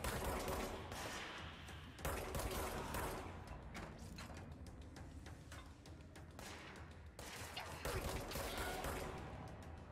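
Rapid gunfire from shooting enemies in the video game Control, a dense run of loud, repeated shots layered over a steady mechanical game soundscape, with no talking.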